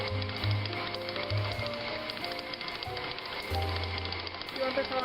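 A mixer beats cookies and cream cupcake batter at medium-high speed, a steady mechanical hum with a low rumble that surges and drops, heard up close.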